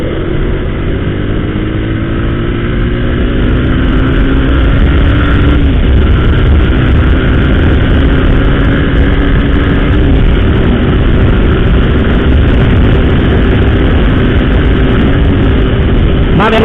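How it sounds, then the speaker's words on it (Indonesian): Strong wind buffeting a motorcycle rider in heavy afternoon traffic, a loud, constant roaring rush of air mixed with the low drone of the engine, with no break. "anginnya kenceng banget guys"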